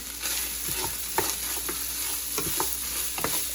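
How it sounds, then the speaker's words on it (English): Allspice and cinnamon being stirred through a hot pan for Lebanese hushweh: a steady sizzle with repeated scraping strokes of a utensil, close and fairly loud, with no voices. "And I'm going to stir that around."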